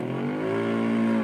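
Universal e-bike sound generation module imitating a moped, producing a steady synthetic engine drone with a smooth, slightly rising tonal hum, continuous and fairly close.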